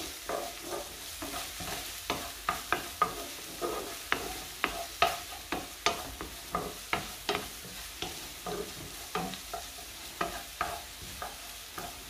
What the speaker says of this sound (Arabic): غادي نشحرها شويه كما قلت لكم.